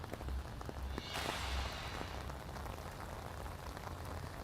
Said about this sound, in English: the rain is coming down there, and you can hear it